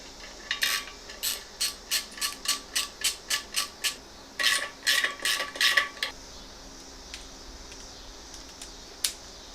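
Metal clicks and creaks from tightening bolts on a CX500 Comstar wheel assembly, a run of about a dozen sharp, evenly spaced ticks, a brief pause, then a louder cluster of five or six, all close and without talk.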